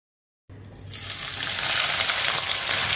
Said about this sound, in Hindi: अब मैं शुरू करूँगी प्याज को फ्राई करना प्याज को हमने जो है ना डार्क ब्राउन फ्राई कर लेना है